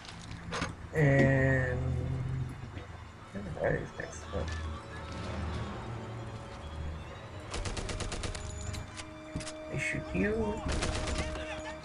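Gunfire and explosions from the video game Medal of Honor Airborne rattle in bursts under a player's talk, with rapid shots and louder blasts mixed among game noise.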